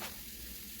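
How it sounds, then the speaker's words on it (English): Veggie meatballs frying in a pan lined with aluminum foil, giving off a steady, soft, continuous sizzle with no voices. "our meatballs are sizzling, looking pretty good"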